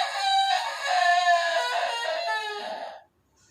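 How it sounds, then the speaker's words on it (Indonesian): A rooster gives one long, loud morning crow close by, rising and stretching over about three seconds before cutting off into near silence. "Setiap hari pagi ketika ayam berkokok"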